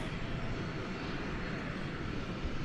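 Airliner departing DFW Airport on the Oklahoma City departure, a steady, moderately distant engine roar holding even for a few seconds, with no talk.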